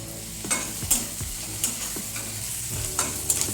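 A vegetable dish frying in a pan while being stirred, loud continuous sizzling broken by repeated scraping strokes of the spoon, close up with no talking.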